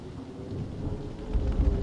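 Rumbling thunder with steady rain in the video game FNAF Help Wanted, a low continuous roll that swells louder toward the end, with no voices.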